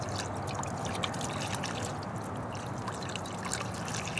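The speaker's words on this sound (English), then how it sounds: "I'm just going to pour it on there, and make sure there's a little bit" Lacquer thinner pours and trickles onto a glass-head Briggs engine and into its sump, a steady close liquid splash running without a break and with no talking.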